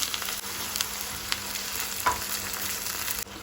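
Tomato puree goes into ginger-garlic paste frying in oil for Goan chana masala, and a steady soft sizzle follows, broken by a few faint stirring clinks, with no talk.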